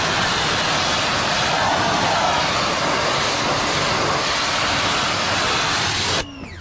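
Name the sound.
pressure washer blasting car door jambs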